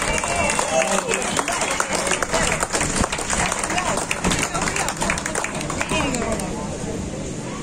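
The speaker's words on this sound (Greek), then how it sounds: "Χειροκρότημα" Crowd applause at a mountain bike race ceremony, steady dense clapping from many hands sustained throughout, with murmuring voices mixed in.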